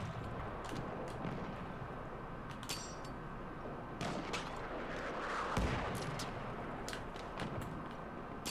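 Artillery fire in the Battlefield 1 video game: a dense, loud bed of distant booming blasts and rumbling explosions with scattered sharper gunshot cracks throughout, one heavier impact swelling near the end.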